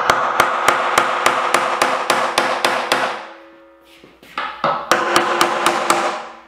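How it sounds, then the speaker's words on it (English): Steel hammer driving a punch against the metal hoop of a wooden wine barrel to work the ring loose, sharp regular metallic blows in a steady rhythm, a brief pause with scraping, then the rapid strikes resume, close and loud. "This is where the hammer and the punch come in."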